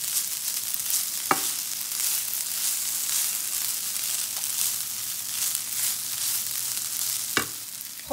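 Fried onions get stirred into a sizzling mixture in a pan, a constant bright frying hiss with a couple of sharp spoon knocks against the pan, no voices.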